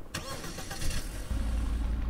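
A car engine in the Garry's Mod video game cranks with a short starter whir, then catches and settles into a steady, close, low idle rumble.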